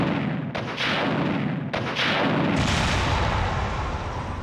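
A rocket launcher fires at the Tyrant in the Resident Evil Director's Cut video game, giving heavy booming blasts and rumbling explosions that fill the clip, loud and continuous, with no talk.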